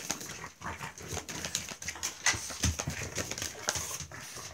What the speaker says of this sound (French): Vous entendez du bruit, c'est mes chiens qui sont super excités.